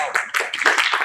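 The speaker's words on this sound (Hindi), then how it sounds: "पूरे सम्मान और जोरदार तालियों से स्वागत करते हैं" An audience at a business talk on global markets gives a brief burst of dense hand clapping to welcome the chief guest, close and fairly loud.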